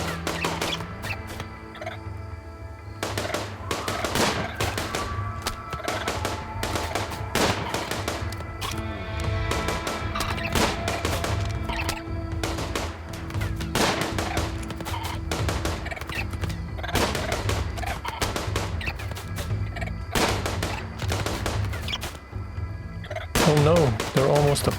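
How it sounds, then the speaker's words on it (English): Repeated gunshots crack at irregular intervals during shooting practice in the video game Rimworld, layered with thuds over background music, with speech at times. "Now, this is free shooting practice,"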